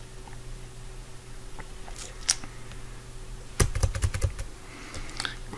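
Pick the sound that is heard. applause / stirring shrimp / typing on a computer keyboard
typing on a computer keyboard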